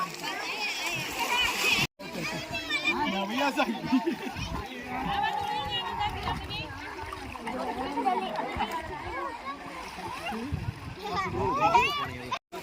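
Water splashes steadily as people bathe in a river, mixed with constant overlapping voices and chatter from a lively group nearby.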